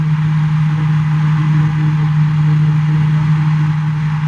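Sport motorcycle engine holding third gear at speed, a steady loud drone with a strong constant hum and rushing wind noise, unbroken throughout and with no talking.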